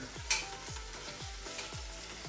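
Patted-dry spare ribs sear in a hot pan with a continuous close sizzle. A short bright spit comes early, and low repeating swooping tones run underneath.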